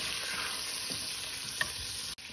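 A spice paste fries in a pan with a loud, dense, close sizzle, broken by brief stirring scrapes.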